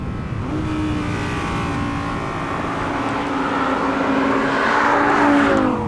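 An Audi R8's 5.2-litre 90-degree V10 engine drones steadily with rising harmonic tones as it revs and accelerates, loud and close throughout, no voices.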